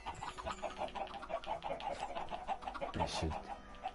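Chickens in the video game Minecraft cluck in a steady run of short, repeated calls that continue throughout at a moderate level, with a brief noisy burst near the end.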